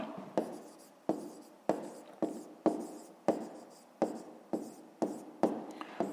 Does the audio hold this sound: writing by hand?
yes